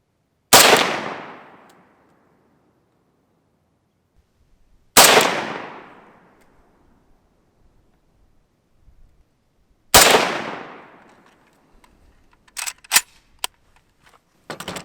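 Three evenly spaced loud pistol shots with standard, non-frozen ammunition fired at a target outdoors, each crack ringing out and fading, followed by faint clicks and small handling noises.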